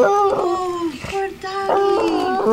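A dog whimpers and howls close by in repeated drawn-out, wavering cries, broken by short pauses. A voice is faintly heard in the background.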